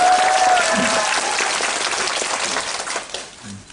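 Audience clapping at a stage greeting after a performance of the musical Bare, a dense, even patter of applause that slowly fades toward the end, with a brief voice heard faintly near the start.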